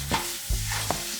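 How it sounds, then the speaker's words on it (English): Butter and sugar boil together in a pan, giving a brief bubbling sizzle with a couple of sharp stirring scrapes, close and fairly loud, with no voices. "So, the butter and the sugar are now melted together. Boiling."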